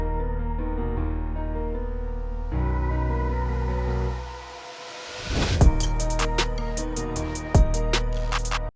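Synth riser effects sweep upward in an electronic beat arrangement, panned from left to right, building to a drop near the middle before loud hits and bright transients continue the track.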